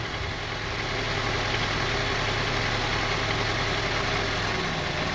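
Honda CR-V engine idling roughly, a steady close mechanical drone with a low uneven throb throughout, no voices.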